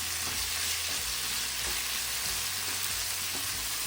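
Capsicum frying in a pan for paneer jalfrezi gives a steady, close sizzle throughout, with a few soft stirring scrapes and no voices.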